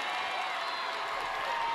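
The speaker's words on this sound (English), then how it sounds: "This Connally crowd is rocking." Basketball crowd in the Connally Cadets gym against the Lorena Leopards roars with steady cheering and clapping, a dense, continuous wash of noise with no breaks.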